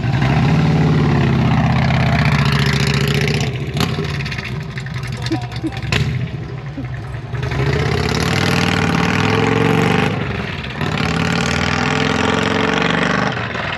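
Harley-Davidson Street Glide motorcycle engine running in first gear: a loud, close, steady rumble throughout, with brief dips in level, while people talk over it.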